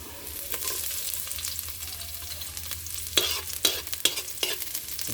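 Garlic frying for pork adobo, stirred in the pan: a close, continuous sizzle, with sharp scraping stirs that grow more frequent toward the end.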